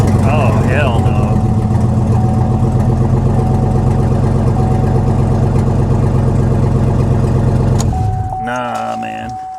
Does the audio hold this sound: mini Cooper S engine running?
yes